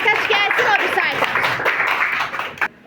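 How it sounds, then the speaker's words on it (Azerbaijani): A sixth-grade classroom of pupils claps for a classmate, a short burst of quick, busy applause with a voice talking over it, fading out abruptly at the end. "Eliyanəni alqışlayaq."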